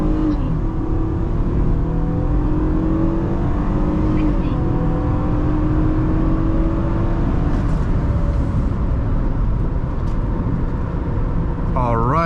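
A 2009 Toyota Camry XLE V6 accelerates from 0 to 60 mph from inside the cabin, its engine droning loud and steady as the pitch climbs through several gear shifts, with a short voice near the end.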